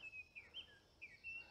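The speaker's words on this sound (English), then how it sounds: "So you can hear all the birds" Outdoor birdsong on a beautiful day in Norway: clear whistled chirps and short sliding notes repeat every fraction of a second, fairly faint and distant over quiet background ambience, with no speech.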